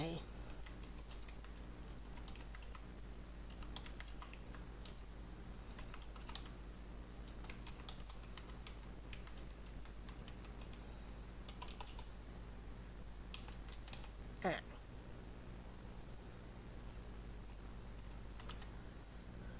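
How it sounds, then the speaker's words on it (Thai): Someone types a name on a computer keyboard, producing quiet, irregular runs of key clicks across the whole stretch, with one slightly louder tap partway through. "ก็พิมพ์ชื่อจริงลงไป"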